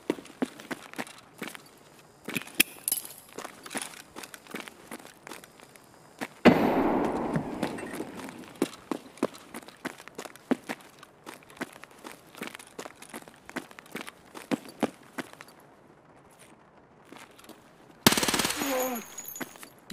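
Rapid automatic bursts from a Vector submachine gun in Escape From Tarkov, near and loud, with sharp repeated shots spread through the clip, footstep-like clatter between bursts and a couple of louder blasts.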